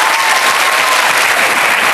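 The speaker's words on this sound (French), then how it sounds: "On l'applaudit." Loud, dense TV studio audience applause after a contestant's round on a game show, a sustained wash of many hands clapping at close range with no voices on top.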